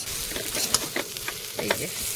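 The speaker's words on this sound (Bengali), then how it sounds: "এবারে জল দেবো।" Water hits browned, frying potatoes in a pan for potato dal, setting off a crackling sizzle with short bursts of hiss and stirring, close and moderately loud.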